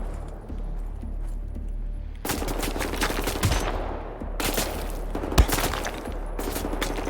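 Gunfire in the shooter game Wolfenstein: The New Order, with dense rapid automatic bursts that start abruptly after a quieter stretch, loud and close, broken by short pauses and a sharp single report.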